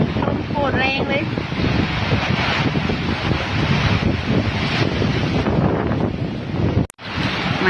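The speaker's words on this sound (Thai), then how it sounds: "ลมโคตรแรงเลย" Strong storm wind roars and buffets the microphone outdoors in Chun district, Thailand, as a dense, continuous rush, loud and close, cutting off abruptly near the end, with a faint voice briefly underneath.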